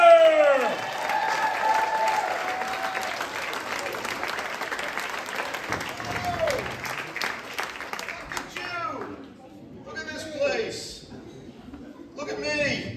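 A theater audience at the Dickens Parlor Theater in Delmar claps and cheers to welcome a stand-up comic, with dense sustained applause for about eight seconds that thins out as a voice begins talking.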